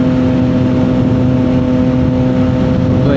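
A 2025 CFMOTO 675 SS motorcycle fitted with a new full exhaust and no tune, holding a loud, steady droning idle with a strong humming tone that stays constant and close, with no talking.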